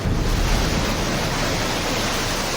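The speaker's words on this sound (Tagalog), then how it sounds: "Ang alon na may taas na 1 metro, galit na humahampas sa seawall." Large waves about a metre high pound a seawall along a coastal boulevard in Catanduanes, making a loud, continuous roar of rushing surf that fills the whole clip with no voices.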